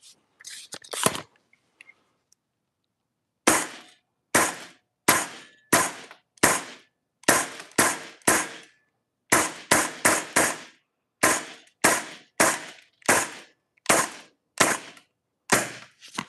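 Airsoft rifle fitted with a Guarder 35-round MWS magazine loaded with 0.36 g BBs firing a brief burst, then after a pause about seventeen sharp, loud single shots at a slow, irregular pace, close by with no talking.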